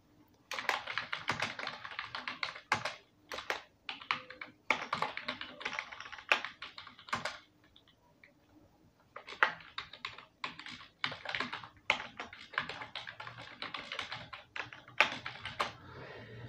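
Typing on a computer keyboard while working in MS Word, a steady run of quick key clicks in bursts with a short pause midway, close and clear with no talking.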